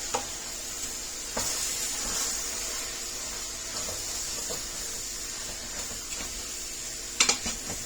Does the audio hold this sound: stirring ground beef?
yes